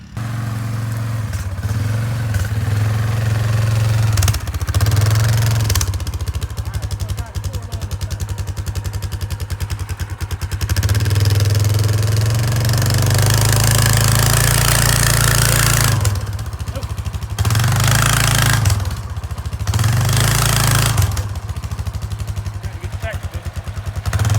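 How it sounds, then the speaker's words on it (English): Four-wheeler ATV engine straining to pull a Super A tractor, loud and close throughout, with repeated revving surges and drops over a steady low rumble. "we're gonna try to pull it out of here, at least out of here with the four-wheeler"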